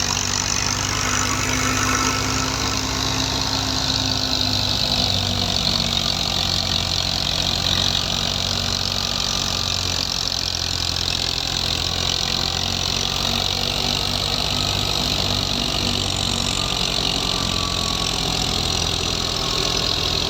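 A New Holland 480 tractor engine runs steadily and loudly while powering a thresher, a low rumbling drone with constant vibration and no pauses.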